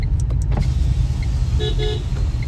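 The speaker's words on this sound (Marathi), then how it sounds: "गाईज ही काकाची गाडी." A car engine idles loudly nearby in a steady low rumble, with brief faint electronic chirps and beeps over it.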